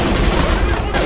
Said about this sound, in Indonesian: terjadilah aksi baku tembak di antara anak buah Hyun Pil dengan aparat